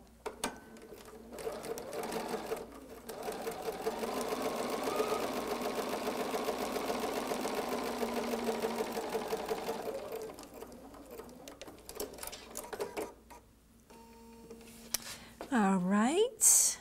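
A Bernina 770 Quilters Edition sewing machine runs a steady stitching stretch for several seconds while piecing a quilt, close and even, then stops; a voice speaks briefly near the end.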